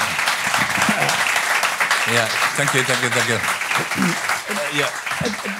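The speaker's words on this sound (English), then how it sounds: "I appreciate the clapping." Audience clapping at a conversation event in Ireland, a continuous wash of applause with someone talking briefly over it.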